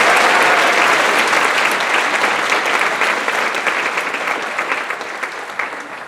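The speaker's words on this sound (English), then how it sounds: "Let's give another round of applause to Gloria." A graduation celebration audience gives a round of applause for a graduate, a dense, loud wash of clapping that starts strong and gradually thins out toward the end.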